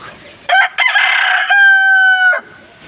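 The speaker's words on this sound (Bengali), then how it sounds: "এখানে মোরগটা আছে" A rooster on a chicken farm gives one loud, close crow with a drawn-out, strained final note, and quieter farm sounds are heard before and after.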